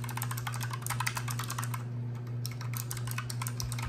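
Fast keystrokes on a new clicky computer keyboard, crisp close clicks in rapid bursts with a short pause midway, over a steady low electrical hum.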